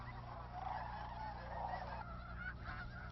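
Geese honk in a dense, overlapping chorus at the Bosque del Apache refuge, a steady faint flock sound heard from a distance.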